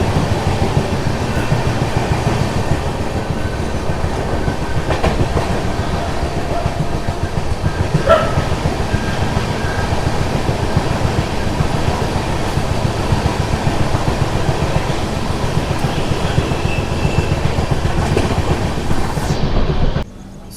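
The 12763 Padmavati SF Express runs through Singarayakonda station without stopping, a steady close rumble and rattle of wheels and carriages lasting throughout, with a faint dog bark partway through.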